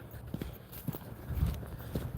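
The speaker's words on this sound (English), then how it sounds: "Sorry, my dogs are chasing my donkeys around." Donkeys' hooves clopping in scattered, uneven beats as dogs chase them around, faint and somewhat distant, with a few heavier thuds near the middle and no talk.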